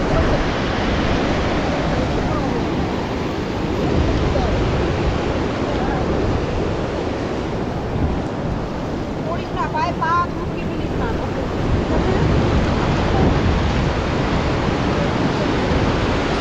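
Waves of the rising tide wash steadily at the Digha estuary, a loud continuous roar of surf mixed with wind buffeting the microphone, with brief faint voices partway through.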